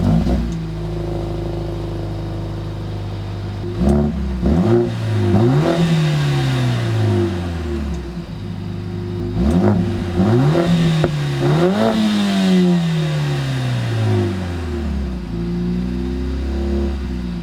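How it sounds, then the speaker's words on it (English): A Mercedes-AMG CLA 45 four-cylinder engine idles steadily, then revs up sharply several times, each rise in pitch falling back to idle, close and loud with no talking. "now let's take a listen to what this AMG sounds like"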